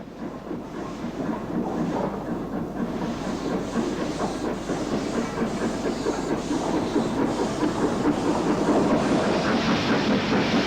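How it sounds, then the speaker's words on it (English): A heavy double-headed steam train on the Isle of Man Railway rumbles steadily nearby, departing a station with drains open, with a rhythmic chuffing and a constant hiss, growing slightly louder as it moves off. "A double header sets out for the junction at St. John's."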